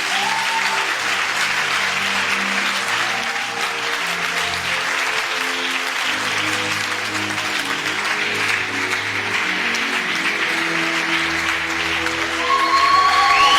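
A church congregation applauds to acclaim the Lord during a worship service, with steady, dense clapping from a large crowd that continues unbroken throughout over faint sustained musical tones.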